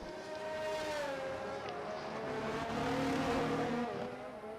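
F1 23 video game race cars at Jeddah whine at high revs, pitch shifting as cars accelerate and pass, moderately faint and continuous.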